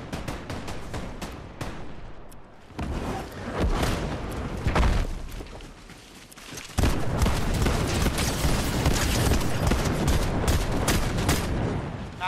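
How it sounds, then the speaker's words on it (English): Gunfire in Fortnite played in VR, dense sustained bursts of shots and booms at close range, continuous and loud across the whole stretch with a few brief gaps. "who's shooting me?"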